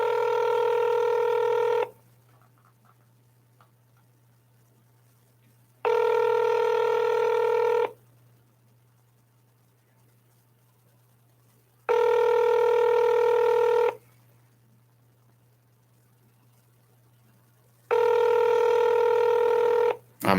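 A telephone line gives four long, loud, even tones about two seconds each, spaced by roughly four-second gaps of quiet hum, a repeating electronic ring or keypad pattern with no one speaking.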